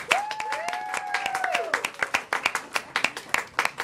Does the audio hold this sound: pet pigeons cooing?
no